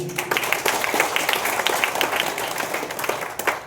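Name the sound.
audience clapping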